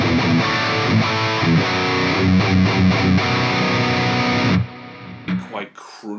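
A distorted electric guitar, a Line 6 Metallurgy Thrash plug-in lead tone, plays a sustained, saturated lead line with chords ringing underneath, then cuts off, leaving a brief quiet tail.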